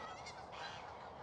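Geese honk briefly outdoors beside a golf practice area, a couple of faint calls over steady low background noise, somewhat distant, with no talking.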